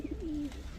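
A red-eyed Jhak-gola hen pigeon coos in a single brief throaty call, with a couple of short notes leading into a longer drawn coo, faint against light room noise.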